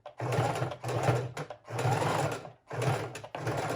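A sewing machine stitches through a fabric book cover in short stop-start bursts, about four runs of steady mechanical whirring separated by brief pauses, close and clear with no talking.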